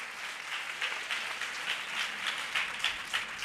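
A church congregation clapping hands during a Hindi-language sermon, a fairly steady patter of many hands with a loose rhythmic pulse, moderately close and without speech.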